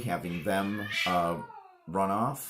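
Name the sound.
cats meowing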